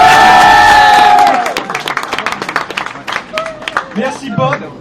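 Audience at a Street Fighter IV tournament finale cheering and applauding the three finalists, starting loud with whoops and shouts, then thinning to scattered claps and crowd chatter with voices over it.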